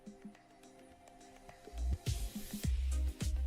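A sausage stuffing machine pumps meat into long plastic casings in a hot dog factory, building from a faint whir into loud, repeated low thumping and squishing pulses.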